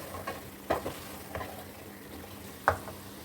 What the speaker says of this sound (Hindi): अब हमें इन सबको अच्छी तरह से मिक्स कर लेना है।